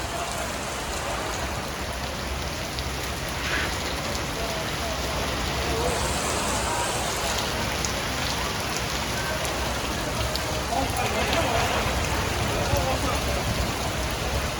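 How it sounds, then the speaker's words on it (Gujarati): Heavy rain pours steadily during a storm in Gujarat, a dense, unbroken hiss of drops on surfaces lasting the whole stretch, with faint voices in the background. "ભીડીમાં ફૂલ વરસાદ."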